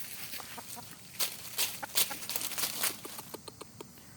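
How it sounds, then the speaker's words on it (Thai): A decoy rooster used for bird trapping clucks in short, quick bursts close by, sharp repeated calls with brief gaps between them over quiet background. "เนี่ยไก่ต่อตัวนี้ครับผม"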